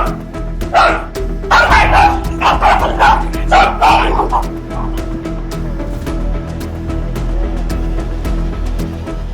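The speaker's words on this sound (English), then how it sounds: "At first, the dog was pretty fierce, attacking the rooster over and over." Dog barking repeatedly while fighting a rooster, a cluster of loud close barks and yips early, then thinner sharp noises over a constant low rumble.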